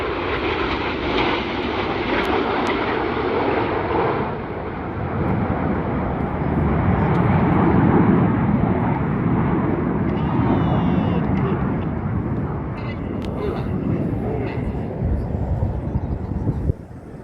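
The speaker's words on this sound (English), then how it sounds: "one of the most popular manoeuvres we fly, and one of the hardest for our new pilots each year, this is rollback" Red Arrows jets flying the rollback manoeuvre at an air festival give off a loud, continuous broadband engine roar that swells in the middle and slowly fades.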